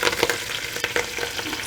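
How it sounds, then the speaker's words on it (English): Wet greens tossed into a hot pan sizzling and crackling, a steady close frying hiss broken by small popping bursts as they are stirred. "Sizzling at me because there's a little bit of water on them."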